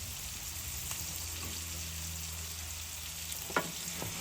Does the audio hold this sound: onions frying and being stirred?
yes